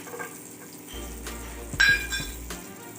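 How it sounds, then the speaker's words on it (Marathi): Sliced garlic dropped into melted butter in a pan, giving a soft sizzle with a few light clinks of utensil on metal, close and quiet. "इथे बटर ना मेल्ट झाल्यावरती इथे लसणाचे काप करून घेतलेत मी हे टाकून घेऊया"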